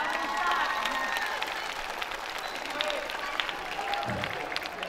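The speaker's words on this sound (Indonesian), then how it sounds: "Kasih tepuk tangan yang ikhlas anak-anak kita" A crowd at an outdoor humanitarian concert in Aceh Singkil applauds the children, a dense wash of clapping and cheering mixed with voices and a faint tonal hum beneath.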